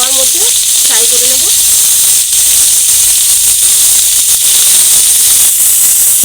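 Chicken kathi kabab pieces deep frying in hot oil, a loud, steady broadband hiss and sizzle throughout, with a brief voice at the start.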